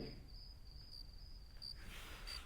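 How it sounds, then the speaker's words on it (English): Crickets chirp in a steady, high-pitched trill that pulses lightly, faint and continuous against quiet low background rumble. "those crickets are obviously not a transaction sound"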